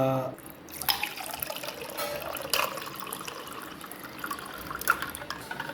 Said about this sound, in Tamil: ஐஸோட ஊற்ற போகிறேன் சமபங்கா